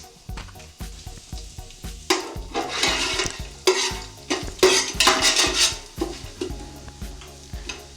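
Biryani spices frying in oil in a pot for Andhra-style prawn biryani, with a steady sizzle under repeated metal spoon scrapes and clinks as they are stirred, close and fairly loud.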